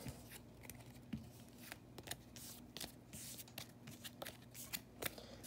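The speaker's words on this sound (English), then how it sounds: "Alright, gonna shuffle up real quick." A deck of trading cards being shuffled by hand, a run of quick papery riffle and flick sounds repeating close up over faint low background hum, with no talking.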